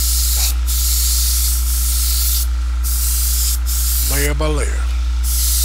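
An airbrush sprays black paint onto a model in a steady, close hiss that runs the whole time, with brief gaps where the trigger eases off; a voice speaks briefly over it near the end.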